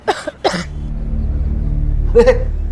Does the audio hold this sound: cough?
yes